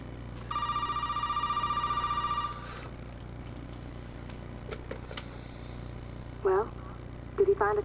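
A telephone rings in Resident Evil 7, a steady electronic trill repeating for about two seconds near the start, then stopping, leaving low game ambience with a few brief sharp sounds and short vocal bursts later.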